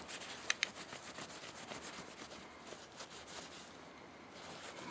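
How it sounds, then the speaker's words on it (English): A polishing cloth rubs steadily over a Colt Gold Presidential 1911 pistol, giving a soft, close, continuous swishing friction with two small clicks near the start. "It's basically a polishing buffing cloth that comes with the Rusty's Rag kit."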